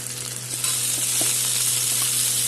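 Chopped vegetables and onions fry in a pan of hot oil for sambar, giving a steady, close, continuous sizzle with no voices.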